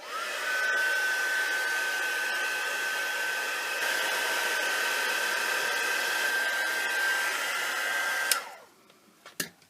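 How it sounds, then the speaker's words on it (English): A heat embossing gun blows steadily with an even whirring hiss for about eight seconds, then shuts off, leaving a few faint clicks and handling noises. "Emboss these with my gun first"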